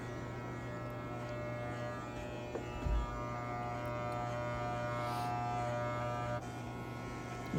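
Hair clippers with the lever fully closed buzz steadily at close range while fading a hairline, a continuous low electric hum with a couple of brief bumps and no talking.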